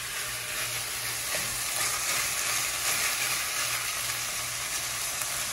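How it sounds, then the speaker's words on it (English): A pound of 90-10 ground beef sizzles and fries steadily in a pan while being broken into chunks, a dense, even hiss that holds throughout with faint stirring scrapes and no talk. "we're gonna add in a pound of 90-10 ground beef. And we're just gonna kind of chunk that up"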